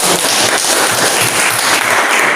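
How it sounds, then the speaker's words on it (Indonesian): Students in a classroom clap for group 3, producing a loud, dense burst of applause from many hands that runs steadily through the whole moment. "Saya tepuk tangan untuk kelompok"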